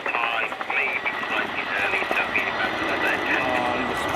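A Chinook HC5 twin-rotor helicopter with two Honeywell engines flying a display at the RIAT 2024 airshow, giving a loud, steady engine roar and rotor drone throughout, with no break.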